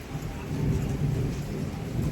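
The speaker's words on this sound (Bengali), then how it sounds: "দেখো বাইরে কি বৃষ্টি" Heavy rain pours down outdoors during a storm, a dense continuous wash of noise with a low rumble of thunder underneath, steady and close throughout.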